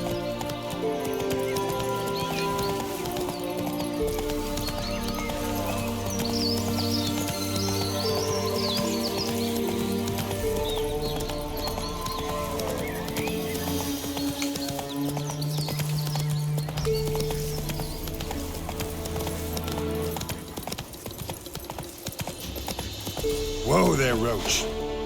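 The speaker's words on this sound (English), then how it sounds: "Whoa there, Roach." Horse hooves clip-clop steadily through The Witcher 3 over layered game music, with a neigh near the end and occasional faint bird chirps.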